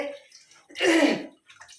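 Five kilograms of beef is rinsed with water before cooking. A loud splashing pour swells in the middle, with softer trickles and drips before and after.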